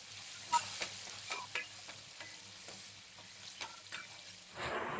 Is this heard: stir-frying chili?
yes